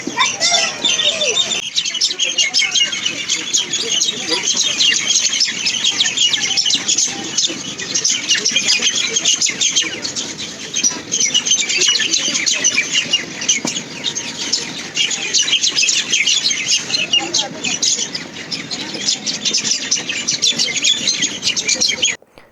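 A dense chorus of chirping birds, many overlapping calls going on continuously, with occasional fluttering and faint voices in the background.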